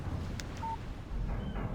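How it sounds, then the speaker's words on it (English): A phone text message alert in the Alan Wake video game: a short, clear electronic beep rings out once over a low rumbling ambient background, with no one talking. "Text message from Barry."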